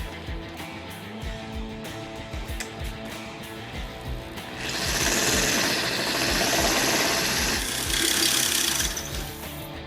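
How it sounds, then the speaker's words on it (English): An electric drill bores a small hole through a vehicle's cab body for light bar wiring: soft handling clicks first, then a loud, steady, close drill whine for about four seconds, a brief dip, and another short burst. "Now I have to drill a small hole in the body here to get the wiring to the inside of the cab"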